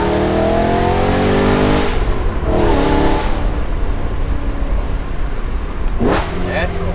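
A car approaches and drives past on a road, its engine tone rising and then falling over a constant nearby engine drone, with a quick whooshing pass near the end.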